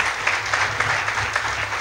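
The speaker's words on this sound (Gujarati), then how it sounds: "જોરદાર તાળીઓ" Enthusiastic applause from an audience at a community gathering of a Saurashtra Patel service society, a steady dense wash of clapping throughout with no voices over it.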